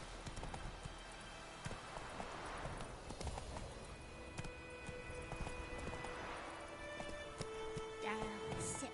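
Horse hooves clip-clopping at a gallop in the open-world fantasy video game Witcher 3, a steady rhythmic pounding running throughout amid game ambience, with a voice speaking over it.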